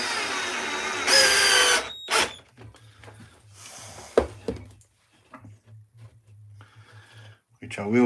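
A power drill used for woodcarving whirs in short bursts, loud and close, with pauses between runs, along with mechanical clicks and handling noises, and a person speaking in between.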